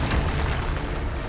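A Bombarda spell blast erupts in the Hogwarts Legacy video game, one loud, dense boom filling the whole short moment with rumbling noise.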